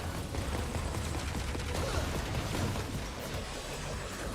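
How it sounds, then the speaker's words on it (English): Explosions in the Mega Man 11 video game, a dense run of rapid crackling blasts and rumbling booms, steady and loud throughout with no talk. "Fire sets off the explosives."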